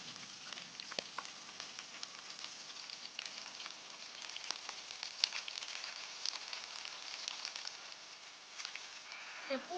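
Lamb ribs keep frying in an oiled pan after being turned, giving a soft, continuous sizzle. Faint scattered pops and spatters run through it, and it stays low and even throughout.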